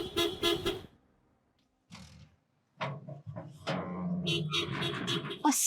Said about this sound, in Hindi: बंद करो हॉर्न देना।